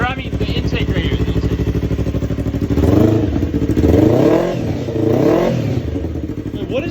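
A Yamaha R3 motorcycle engine fitted to a shifter kart idles and then revs in a few rising and falling bursts, with intake noise and rattling mechanical clatter close by.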